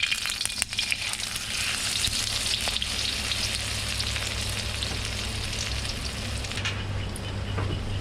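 Food fries in hot oil after being flipped, giving a continuous loud bubbling sizzle with occasional stirring scrapes throughout.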